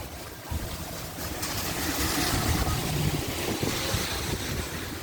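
Loud, dense hiss of heavy rain pouring steadily, mixed with gusty wind noise throughout.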